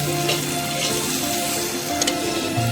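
Oil sizzles and fries steadily in a pan as turmeric is stirred in, with a continuous loud hiss and faint scraping.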